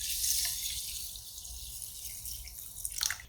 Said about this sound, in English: I want to take that white rice and soak it in some water